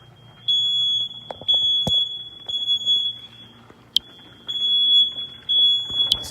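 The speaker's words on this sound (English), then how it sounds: "Fire alarm goes off," A smoke alarm set off by cooking short ribs sounds in repeated shrill beeps, some cut short, with faint clatter and thuds in the kitchen around it.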